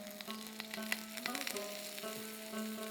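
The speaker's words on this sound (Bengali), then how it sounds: "এখন তেলটা গরম হয়ে গিয়েছে, আমরা প্রথমে অনিয়নগুলো দিয়ে দিব" Onions go into hot soybean oil and fry in a pan with a soft, steady sizzle, some light crackles and a faint low hum under it, with nobody talking.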